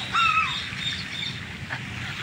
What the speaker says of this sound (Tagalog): Parrot yata ito eh.